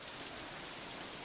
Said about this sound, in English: Sky, stop raining.